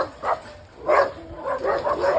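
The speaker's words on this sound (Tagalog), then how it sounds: "Ang dami ng aso." Several dogs bark in short bursts somewhat in the distance on the way to a river, three or four quick barks scattered over a couple of seconds.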